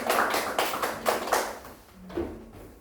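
Audience clapping at an academic seminar, a few bursts of applause that swell and fade, fairly close in a room, with no talk over them.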